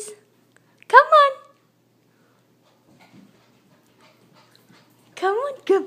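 Puppies give two short bursts of high, rising whimpers and yips during house-manners training indoors. The calls are separated by near silence, and a person's encouraging voice is close by.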